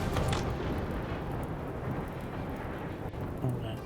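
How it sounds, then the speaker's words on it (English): Lightning thunder in the RimWorld video game, a broad low rumbling roar with rain-like hiss that holds steady throughout without a sharp crack. "so the lightning is doing some damage"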